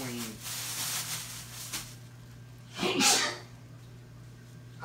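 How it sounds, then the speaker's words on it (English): A single sharp sneeze bursts out in a quiet room, with a low steady hum underneath and a faint breath beforehand. "Got a lot of pepper in this stuff, I guess. It's making me sneeze."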